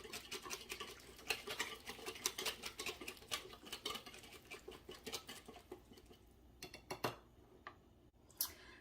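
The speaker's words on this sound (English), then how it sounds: "I'm going to get my whisk and we're going to whisk this together" Lime juice being whisked together in a bowl, a rapid run of light metallic ticks and patters from the whisk, steady for several seconds then thinning into a few scattered taps near the end.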